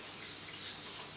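A shower runs in a steady hiss of falling water, even and continuous at close range, with no voices.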